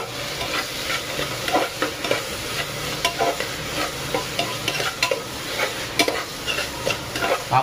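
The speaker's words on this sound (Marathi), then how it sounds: "तेलामध्ये चांगला फ्राय करून घेऊया जवला म्हणजे सुकट." Dried fish (javla, sukat) fries in oil with tomatoes, a constant sizzling hiss broken by frequent scraping and clacking of a spoon stirring the pan, close and fairly loud throughout.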